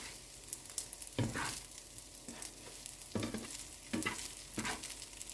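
Fried rice with chili is stirred and tossed in a hot pan, soft sizzling under rhythmic scraping strokes of a spatula recurring every second or so, close and fairly quiet with no voices.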